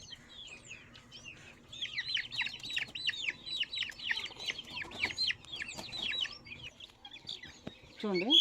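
Many young Bhimavaram breed chicken chicks peep and cheep rapidly in a busy chorus, growing louder toward the end.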